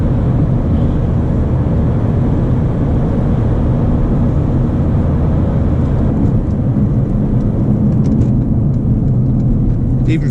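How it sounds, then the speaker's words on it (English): A Mercedes A200 diesel engine with a dual-clutch gearbox drones steadily from inside the small car while driving, a smooth low rumble with road noise that holds constant throughout. "Even for a large engine, it sounds pretty smooth."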